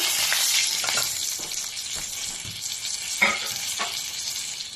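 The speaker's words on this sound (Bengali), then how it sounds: "এবার দিচ্ছি লবঙ্গ, কাবাব চিনি, এলাচি, এগুলো দিয়ে আমি একটা ফোড়ন তৈরি করলাম।" Whole cloves, cubeb and cardamom tempering in hot oil give a steady, close, loud sizzle with scattered crackles and pops and a sharp spit near the end, with no voices.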